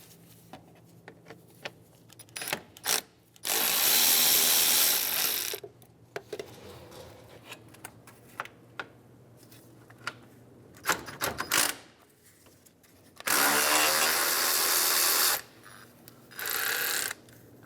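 A ratchet tool backs out two 10mm bolts on a 2003-2011 Honda Element during alternator replacement, with two loud sustained whirring runs of about two seconds each, along with scattered clicks and clanks of handling between them.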